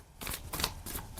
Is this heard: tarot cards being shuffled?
yes